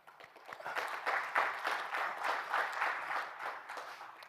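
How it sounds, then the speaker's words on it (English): A summit audience applauds after a speech, steady clapping from a crowd at moderate distance, rising then holding and tapering slightly over a few seconds, with no voices over it. "Worthy of applause."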